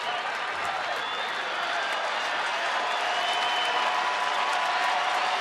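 A ballpark crowd at Rangers Ballpark on its feet during a Houston at Texas baseball game, producing a continuous broad roar of cheering and applause throughout.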